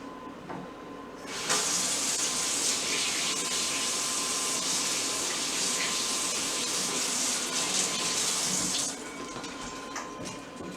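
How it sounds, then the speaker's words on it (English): A kitchen tap runs as hands are rinsed beneath it, a steady loud hiss of water that starts abruptly, carries on for about seven seconds, then cuts off, with no talk over it. "So let me just rinse my hands real quick, y'all."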